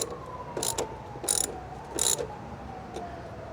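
A ratchet tightens nylock nuts on Rally Armor mud flaps fitted to a Tesla Model 3, giving three short bursts of clicking close by, then a fainter fourth, with a faint steady whine underneath.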